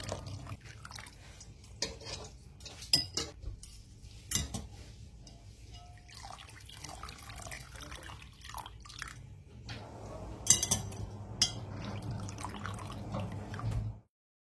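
Softened soy vermicelli being drained, with wet drips and soft squelchy splashes of water falling irregularly, quiet and close, with a few sharper drops and a denser trickle toward the end.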